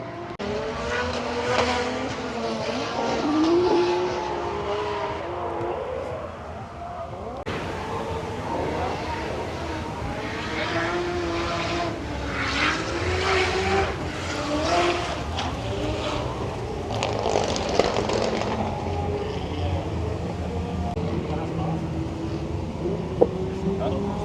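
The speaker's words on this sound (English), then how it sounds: "Here's one of these crazy drift builds." Drift build race car at a Castle Combe autumn track day, engine revving and tyres working in a steady continuous roar, with people talking over it throughout.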